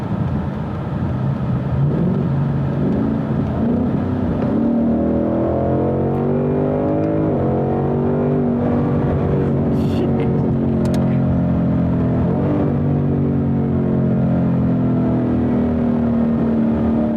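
A modded 2018 Kona Blue Ford Mustang GT V8 engine runs loud and continuously, its pitch sweeping up and down through several revs with no talking over it.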